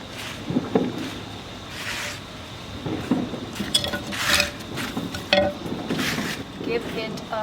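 Garden potting soil being broken up and mixed for repotting a Syngonium arrowhead plant, scattered scraping and clinking bursts with gritty rustles, close by, with a person talking intermittently.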